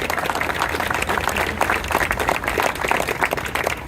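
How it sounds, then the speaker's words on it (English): A crowd at a gun owners' Lobby Day rally claps steadily, a dense, loud wash of applause that lasts the whole stretch with no voices above it. "Let's give them a round of applause."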